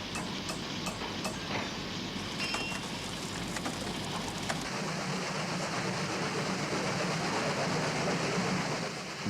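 Nicholas II's imperial train travels at full steam, a steady rushing rumble of wheels and carriage that fills the whole stretch, with a faint metallic tone emerging partway through and no voices.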